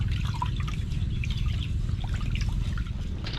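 Water poured and trickling onto an eggplant plot in a rural garden, a steady continuous splashing flow that fills the whole stretch at close range.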